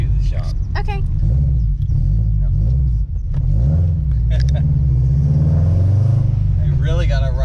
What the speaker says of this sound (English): the car is so loud, I'm trying not to wake all the neighbors up.